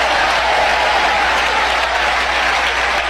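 A church congregation claps loudly and continuously, a dense wash of many hands at full volume with no pauses, over a steady low hum.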